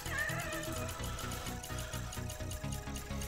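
Unhappy black-and-white cat meowing during a Rocket League crate-opening session, a few plaintive cries near the start, faint against loud, rhythmic game music and effects that run throughout.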